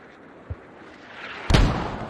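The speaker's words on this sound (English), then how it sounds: "So mortars, yet again BOB mortars up against the FRAs." Mortar fire in the Squad war game: a small distant thump, then a louder, heavier boom of a round landing that rumbles on as it fades, with no voices.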